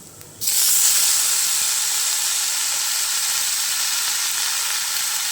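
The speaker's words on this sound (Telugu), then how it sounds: "ఇప్పుడు మనం పుదీనా యాడ్ చేసుకుందాం" Mint leaves land in a pan of hot oil with fried green chillies for tomato mint chutney: a sudden loud, broad hiss bursts up and then sizzles on steadily.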